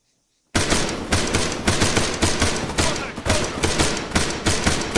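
In the Arma 3 video game, loud machine gun fire bursts in right after a moment of silence and keeps up in rapid, uneven volleys with no pauses.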